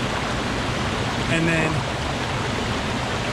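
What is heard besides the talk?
babbling creek near waterfall between two bridges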